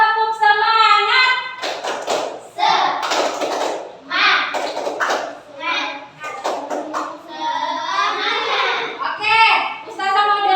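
A group of children chants a rhythmic classroom cheer, the tepuk semangat, voices shouting together in bursts with claps mixed in, close and lively throughout.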